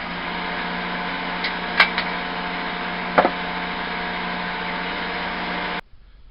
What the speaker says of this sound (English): I've got a buffing system here.